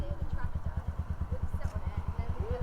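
A motorcycle fitted with Dunlop Roadsmart 4 tyres rides in wet conditions, its engine giving a steady, rapid low pulsing throb close up, with faint speech under it.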